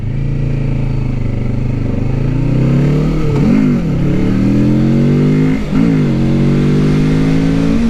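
Kawasaki Ninja 650 motorcycle engine, loud and close, held at a steady rising drone with two quick throttle blips that drop and then climb again.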